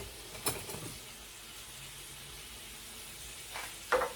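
Potatoes and broccoli cooking in a pan beside steak give a soft, steady sizzle and frying hiss, with a few faint bumps and clicks near the start and end.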